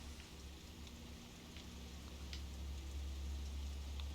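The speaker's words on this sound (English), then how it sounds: "The sound of raindrops on the window echoes faintly." Soft, steady patter of raindrops on a window in the horror game Fatal Frame: Maiden of Black Water, faint and continuous with a few sharper drips, gradually swelling slightly over a low ambient hum.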